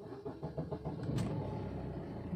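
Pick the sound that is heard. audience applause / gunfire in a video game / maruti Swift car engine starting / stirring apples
maruti Swift car engine starting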